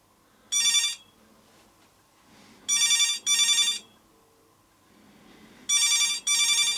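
A skull-shaped novelty telephone rings when called, giving three bursts of bright electronic trilling, one single and two paired, separated by quiet gaps with faint room noise between.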